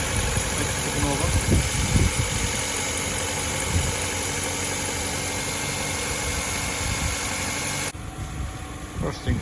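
A cheap used car with about 167,000 kilometres on it idles steadily with a low, even engine hum and slight vibration, the tone shifting near the end as someone speaks briefly over it.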